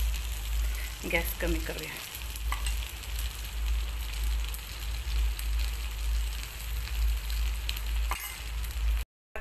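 Oil sizzles in a nonstick appe pan while fasting appe cook. A steady, fairly loud frying hiss runs throughout, with a short burst of clatter early on and a brief spoken line over it before it cuts off.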